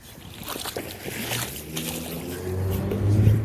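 Floodwater swirls and drains down a street drain in a small vortex, a steady watery rush and slosh that builds louder toward the end, with no talk.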